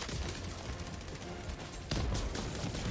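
An enemy turret fires at the player in the Helldivers 2 video game, producing a continuous rattle of gunfire with a louder, heavier blast about two-thirds through.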